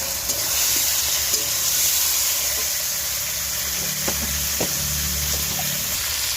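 Potatoes stir-fry in a pan with ginger-garlic paste and green chili, giving a steady close sizzle and hiss with a few clinks of the spatula, and no talking over it.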